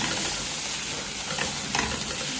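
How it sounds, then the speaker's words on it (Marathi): Chopped spring onion greens with turmeric and garam masala sautéed in a little oil, a loud, close, continuous sizzle with brief scraping stirs, no talking. "हे जरा परतून घ्यायचं तेलात"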